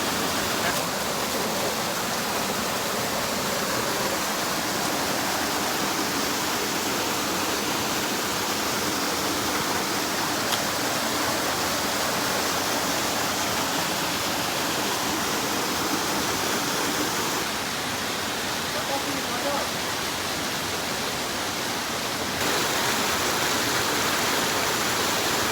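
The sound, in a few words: waterfall and natural swimming pool at Seethampeta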